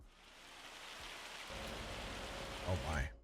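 Hail starts pelting down during a storm in the Farming Simulator 25 video game, a steady broadband drumming that grows denser and louder partway through, with a few low thuddy swells near the end and no talking.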